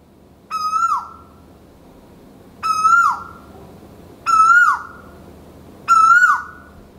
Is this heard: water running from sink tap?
no